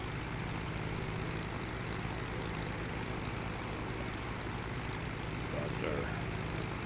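Small propeller airplane cruising at about 74 knots, a steady droning engine hum heard from inside the cabin, constant and even throughout while someone talks faintly over it.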